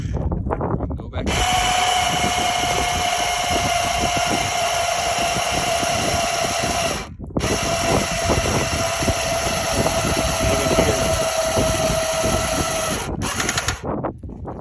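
A Milwaukee battery-powered jack lowers a UTV with a loud, close electric motor whine running in two long stretches separated by a brief stop, with background rumble and no talk.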